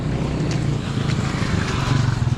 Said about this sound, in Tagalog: Oh, may motor. May motor.